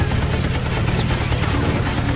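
A World War II fighter plane's machine guns fire in a dense, rapid rattle of shots, loud and close, running without pause over a droning background.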